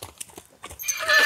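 A gelding is worked on a farm, with a few hoof clops followed by a rising whinny, all close and brief.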